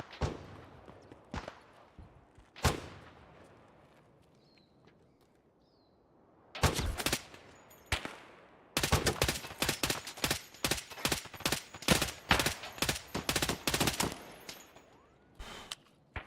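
Gunfire in Escape from Tarkov: a few scattered single shots, then a sustained rapid burst emptying a whole magazine, loud and close, with brief pauses between strings of shots.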